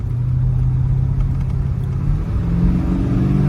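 A 1976 Chevrolet Monte Carlo Landau Edition's engine rumbles loudly and steadily, its low drone rising slightly in pitch toward the end as the car builds speed, with no talk over it.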